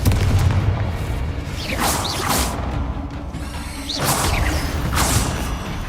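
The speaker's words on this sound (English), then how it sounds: "Bombarda! Revelio! Confringo!" Magical spell blasts from Hogwarts Legacy boom and crash in several heavy explosions, each with a whooshing rush, spaced a second or two apart over a low rumble.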